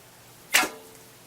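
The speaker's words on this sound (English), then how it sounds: "As you can hear, it's also, this bow's really loud." A single sharp twang and whoosh of an arrow leaving a homemade bow in a basement, loud and close, with quiet surrounding it.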